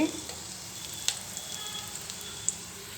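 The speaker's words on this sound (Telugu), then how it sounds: "ఆయిల్ హీట్ అయింది తాలింపు గింజలు వేసుకుందాం ఒక ఎండి మిర్చిని మిర్చిని కట్ చేసేసుకొని వేసుకుంటున్నానండి" Oil crackles and sizzles steadily in a pan, with a couple of sharper pops as tempering seeds and cut dried red chili hit the hot oil.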